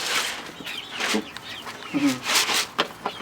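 Hens in a home chicken coop cluck near a feeder, short calls scattered over a rustling background with a brief voice-like murmur.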